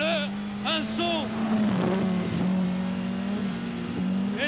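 A rally car on the 1000 Lakes stage in Finland, driven by Vatanen in 1984, holds a steady, loud engine drone at full throttle in fourth gear. Someone talks over it throughout.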